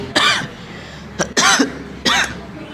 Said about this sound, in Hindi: माफ करना, थोड़ी सी खांसी आ गई थी।